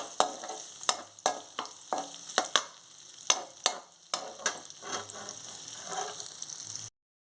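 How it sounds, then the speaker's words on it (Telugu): Small coconut pieces fry in ghee in a pan, a soft sizzle broken by frequent sharp scrapes and clacks of stirring, then cut off abruptly near the end. "ఇదే ప్యాన్లోని ఇదే నెయ్యిలోని చిన్న సైజు కొబ్బరి ముక్కలు చిన్న చిన్న ముక్కలు కట్ చేసుకొని ఇది కూడా ఇందులో దోరగా వేయించుకోవాలి."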